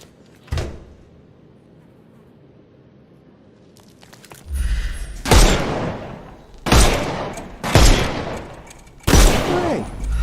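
Gunfire in the Sherlock Holmes Chapter One video game, fighting armoured enemies: a single sharp shot, then after a pause a series of loud, booming volleys in quick succession, each with a short decaying tail.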